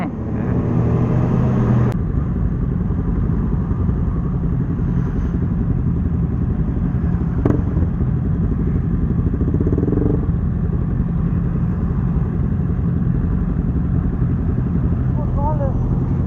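A group of big sport motorcycles ride together at a large wedding trip of over a hundred bikes, a steady loud engine drone throughout, with a sharp clatter near the start.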